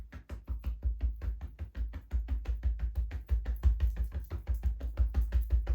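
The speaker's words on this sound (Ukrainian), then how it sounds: "І на затримці ще добре простукуємо." Rapid, even tapping on the body during a breath hold in a kundalini yoga session for stress relief, with dense rhythmic pats a few per second and close, soft thumps continuing steadily without talk.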